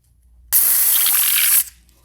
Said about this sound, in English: I spray a little air through it.